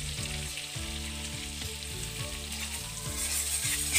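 Green chili and ginger fry in hot oil in a home kitchen, giving a steady, close sizzle that crackles continuously and swells slightly toward the end.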